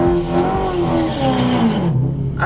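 Supercharged 5.0 ProCharger Ford Mustang engine revving hard nearby at a race track, a loud rising whine and roar that holds steady, then drops in pitch as it pulls away at the end.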